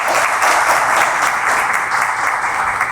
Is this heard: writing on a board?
no